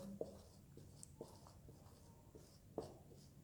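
Marker or chalk writing on a board during a grammar lesson, producing faint, close scratchy strokes and small taps in irregular bursts over a quiet room, with no talking.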